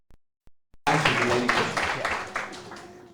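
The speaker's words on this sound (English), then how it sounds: "big round of applause for this brother" An audience at a book launch breaks into sustained, close applause after a few isolated claps, with many hands clapping densely and slowly fading.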